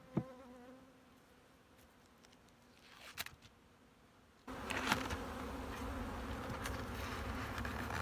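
Bees buzz steadily nearby, a faint hum that swells into a louder, dense droning swarm partway through, with occasional soft handling noises.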